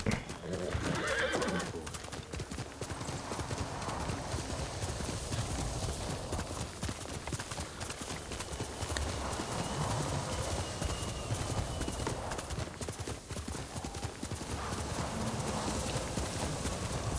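Steady clip-clop of horse hooves runs throughout, with a horse whinnying near the start over a soft ambient backdrop in the video game Ghost of Tsushima.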